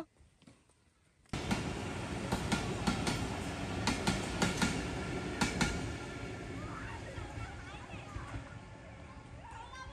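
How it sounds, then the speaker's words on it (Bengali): A train passes very close to a house doorway, its loud rumble starting suddenly and rolling on with rhythmic clacking of wheels and rattling cars, with voices faintly beneath. "খুবই কাছ থেকে ট্রেন গেল"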